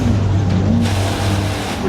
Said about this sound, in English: We have commenced drifting.